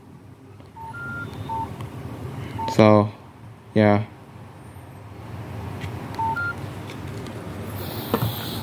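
Cell phone keypad tones from a collection of Nokia handsets, two rapid bursts of beeps plus a few isolated short tones over steady background hiss, with brief speech nearby.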